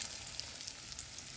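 Breaded sausage-and-cheese cutlets fry in a pan with a close, steady oily sizzle and crackle throughout.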